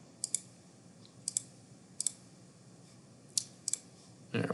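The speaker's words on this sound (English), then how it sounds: "It's a lot of clicking here, not gonna lie." Computer mouse clicking while sketching in Inventor CAD software: several faint, sharp clicks, some single and some in quick pairs, spread over a quiet room background.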